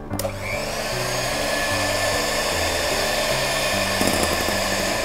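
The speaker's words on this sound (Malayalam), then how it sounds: "യോക്ക് ആഡ് ചെയ്തിട്ട് നല്ല ഹൈ സ്പീഡിൽ നന്നായിട്ട് ബീറ്റ് ചെയ്യും" An electric mixer runs at high speed, beating egg whites and yolk for a black forest cake batter, a steady loud motor whir with a continuous droning hum and slight rattle.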